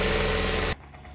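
A small engine runs with a dense, buzzing drone, loud and close, then cuts off abruptly, leaving only faint background hum.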